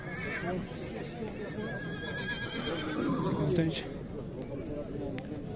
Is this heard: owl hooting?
no